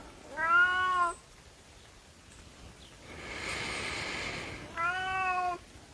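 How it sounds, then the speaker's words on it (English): A cat meows twice, two drawn-out cries separated by a few seconds of quiet, with a soft hiss of background noise between them. "Excuse the noisy cat."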